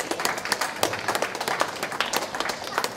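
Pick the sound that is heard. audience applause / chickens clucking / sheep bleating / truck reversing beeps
audience applause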